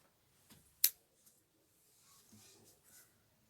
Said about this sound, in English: I chain 1 and cut my yarn